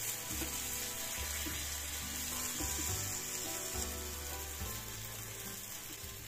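Potato pancake batter with sesame seeds and coriander sizzling in an oiled pan, a soft steady frying hiss under faint low humming and occasional scraping sounds.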